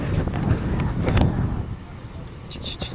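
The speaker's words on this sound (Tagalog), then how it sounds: "Ang lakas ng hangin." Strong wind by the sea buffets the microphone in a low, continuous rumble that eases a little toward the end, with people talking over it.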